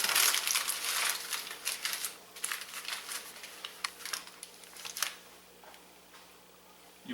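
Tin foil being crimped and rolled around the edges of a deep-sided glass dish: dense crinkling and crunching close up, loudest at first, then sparser crackles fading over quiet room hum, with no talk.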